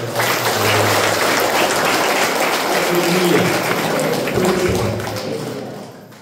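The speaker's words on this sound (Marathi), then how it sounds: "आपण जोरात टाळ्या वाजवत" A church congregation claps loudly together in a dense, sustained burst of applause that gradually fades toward the end.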